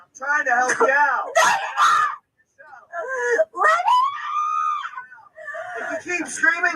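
A person screams and wails in distress during a police arrest, loud, drawn-out cries broken by brief pauses, close to the microphone and mixed with anguished voice.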